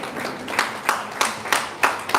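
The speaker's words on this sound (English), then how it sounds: "Let's clap for yourselves." A small audience at a training session claps in a short burst of about six or seven sharp, evenly spaced claps, close and moderately loud, with no talking.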